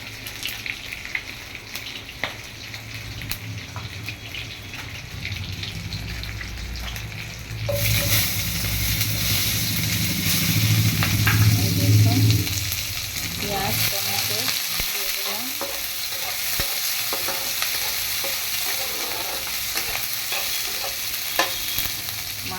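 Katla fish frying in a pan on a home stove, a steady sizzle that swells louder partway through and keeps hissing, with occasional light clicks and clatter but no voices.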